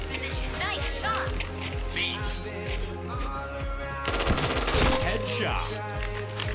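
Rapid gunfire bursts from the PointBlank online shooter game, steady repeated shots with heavier blasts midway, under game voice callouts and speech.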